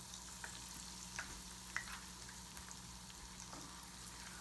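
Whole catfish frying in hot oil, a steady, even sizzle with scattered small pops and crackles, close and moderately loud, with no talking.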